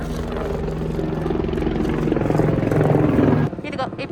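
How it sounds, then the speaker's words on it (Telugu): Helicopters at Hilsa in Nepal give a loud, steady rotor and engine drone close by under people talking, the noise dropping off sharply near the end. "అదిగో హెలికాప్టర్స్"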